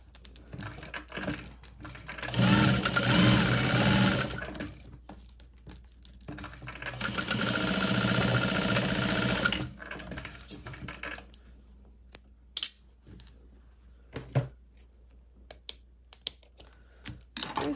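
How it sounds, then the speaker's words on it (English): A sewing machine stitches the side seam of a handbag made from the Apothecary Handbag pattern in two steady, whirring runs of a few seconds each, separated and followed by close clicks and handling noises. "I'm going to just sew these into the top side seam"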